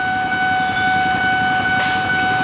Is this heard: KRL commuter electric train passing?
yes